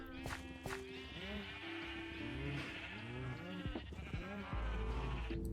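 Minecraft sheep in a video game bleating repeatedly, several overlapping wavering baa calls in quick succession, clear and close, with a few short clicks between them.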